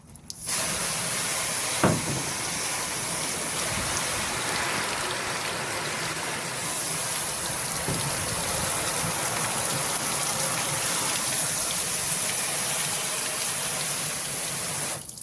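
Water sprays hard underneath a car or truck to rinse off road salt, a steady loud hiss of spray with a couple of brief knocks, running continuously without talk.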